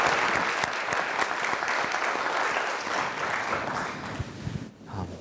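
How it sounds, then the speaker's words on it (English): A meeting audience gives sustained, dense applause for a panel on acute and chronic pancreatitis, a steady wash of many clapping hands that fades out near the end with no voices over it. "join me in another round of applause for the whole panel"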